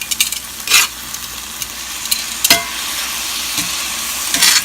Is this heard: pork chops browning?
yes